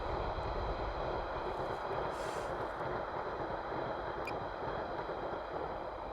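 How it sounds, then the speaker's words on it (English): Central line train heading westbound toward London, picked up from above by a mic on a DJI Mini 3 Pro drone: a steady broadband rumble and rush, moderately distant, mixed with constant whirring drone noise. "Actually, look, we've got a train over here."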